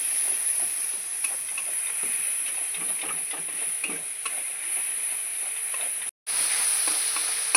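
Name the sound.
sautéing spice paste with salt and water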